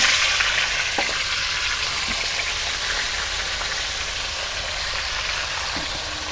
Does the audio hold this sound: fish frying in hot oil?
yes